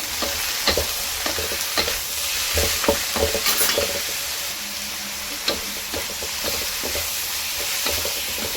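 Chicken stock, oyster sauce, sugar and black pepper are stirred together in a pan, giving a steady frying sizzle with repeated scraping clicks of the spoon against the pan, close and alone without talk.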